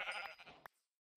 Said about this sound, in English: Hello, sheep! You will become mutton in my belly in a second.